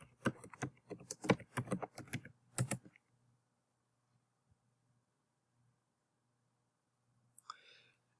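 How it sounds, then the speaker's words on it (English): Typing on a computer keyboard to enter an author's name into a library search box: a quick run of distinct, close key clicks for about three seconds, then near silence, with one more brief click near the end. "I could type in just their name in the search box."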